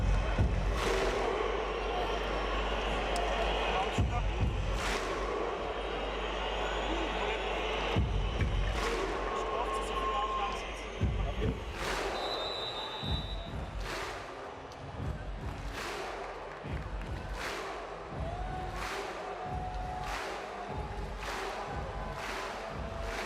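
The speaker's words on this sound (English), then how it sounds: "Slow clap, the Viking clap." Beach volleyball crowd performing a Viking slow clap: a steady series of loud, evenly spaced claps that quicken toward the end, ringing over a background of arena murmur and distant noise.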